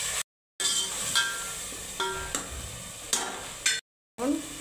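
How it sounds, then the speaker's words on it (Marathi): Ground masala paste sizzles in oil with a little water while a spoon stirs it, giving a close sputtering hiss broken by several sharp scraping stirs and short pauses. "थोडंसं पाणी टाकून तळून घेते वाटण चांगलं."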